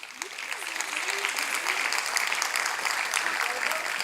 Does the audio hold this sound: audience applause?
yes